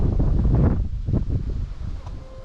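Steady wind gusts buffet a sailing boat anchored at Wayag in Raja Ampat, Indonesia, a continuous loud rushing roar with microphone rumble and faint creaks, no talk.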